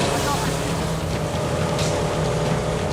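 A speedboat races along a river in Laos at about 70 kilometres an hour, its engine roaring loud, close and unbroken beneath rushing wind and water.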